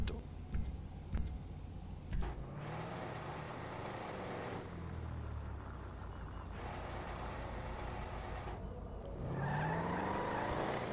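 Car driving in GTA V with a steady engine drone, tire skids and a few sharp thumps near the start, the engine swelling louder toward the end; no talking.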